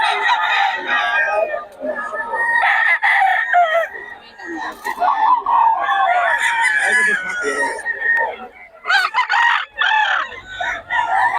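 Roosters and chickens at a poultry seller in Bocaue, several loud, close crows overlapping with bursts of clucking, and someone talking in between.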